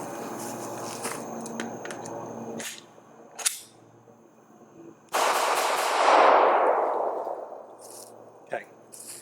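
A Glock pistol firing a different brand of ammunition with failures to eject, producing a few sharp close shots with metallic clatter and a longer rushing burst. Quiet gaps separate the sounds.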